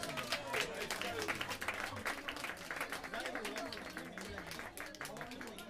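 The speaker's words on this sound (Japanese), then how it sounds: "もう一度大きな拍手をお願いします" Steady applause from a crowd after a band performance at a school reunion party, dense clapping that continues evenly for several seconds with a murmur of voices mixed in.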